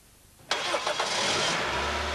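A Toyota Celica engine cranks and fires up during a coolant service, then settles straight into a steady, loud idle that carries on to the end.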